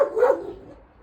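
A lively, athletic dog at a house in a Hungarian village barks once, close and loud, at people passing by, the sharp bark trailing off into quiet.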